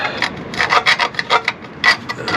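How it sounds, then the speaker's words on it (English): A bolt on a 1996 Honda Accord being scrubbed clean under the car near the inspection cover, heard as a series of short, close, rasping strokes in an uneven rhythm. "so I'm trying to clean up this bolt so I can get my socket on there"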